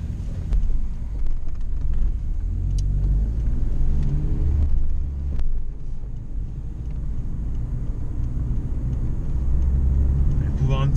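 A Ford Sierra RS Cosworth accelerating onto a motorway, with a loud, low engine rumble and wind buffeting heard from inside the car, while people talk over it.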